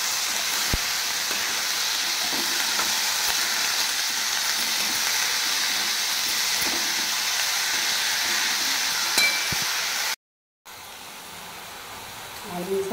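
A simple vegetable dish with salt cooking and being stirred in a pan, heard as a steady, even frying hiss with faint scattered clicks, briefly cut by a moment of silence near the end.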